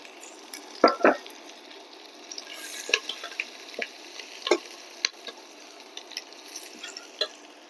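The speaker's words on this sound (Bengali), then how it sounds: "চার কোয়া রসুন মানে রসুনের কোয়া কুচিয়ে এভাবে দিয়ে দিলাম" Chopped onion, half a medium one, and four finely chopped garlic cloves fry in a pan: a soft, steady sizzle with scattered light clicks and scrapes as the mix is stirred.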